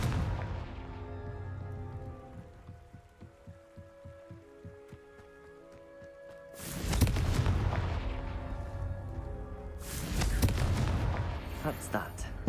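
A Confringo explosion spell cast in a Harry Potter-world video game, two loud, sharp blasts a few seconds apart, each followed by a rumbling decay, after a stretch of quiet musical tones.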